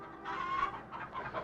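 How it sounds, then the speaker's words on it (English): Live chickens on a city sidewalk beside a butcher shop, a short burst of close, moderately faint clucking and squawking over a low background. "Live chickens on sidewalk."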